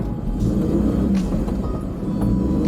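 A Suzuki Carry DA63T mini truck's engine labors in 4WD climbing a gravel slope, with a deep, steady rumble and slight revving, with faint crunching from the wheels.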